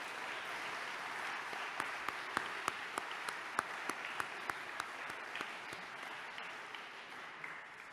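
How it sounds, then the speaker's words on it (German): Applause from an audience for the jury at a song contest final, a steady wash of many hands clapping at moderate distance, with a few sharper individual claps standing out, lasting throughout. "einen Applaus bitte für die Jury"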